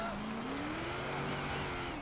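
A car in Forza Horizon 4, amid Japanese tuner cars, drones with a steady engine note that slowly climbs in pitch while tyres hiss and squeal faintly, continuous and fairly quiet.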